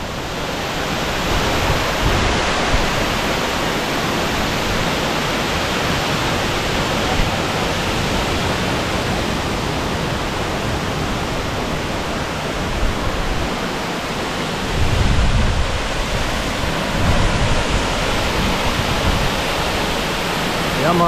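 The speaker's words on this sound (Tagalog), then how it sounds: "Malakas ang buhos ng tubig." Strong, heavy flow of Tamaraw Falls in Puerto Galera, a loud continuous roar of rushing, crashing water that stays steady close by from start to finish.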